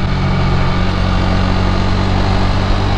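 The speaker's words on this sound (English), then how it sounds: "Downshifting super smooth, no problems." Husqvarna Vitpilen 401 motorcycle engine running steadily and loud from the rider's position, a continuous low droning hum with engine harmonics and wind rush, with no distinct gear-change break audible.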